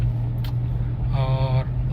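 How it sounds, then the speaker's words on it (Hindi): A car driving along in third gear during a driving lesson gives a steady low engine drone throughout, with a short tonal whine rising over it partway through. "ये थर्ड गियर में हमारी गाड़ी चल रही है"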